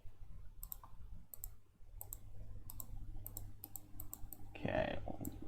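Sparse computer mouse clicks, single and double, fairly close and crisp, scattered over a low steady hum while playing the PC game Jill of the Jungle, with a brief louder burst of game sound near the end.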